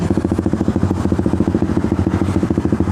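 Suzuki Satria Fi150 fitted with a racing exhaust idling close by, a loud, steady, fast throbbing putter with even pulses throughout.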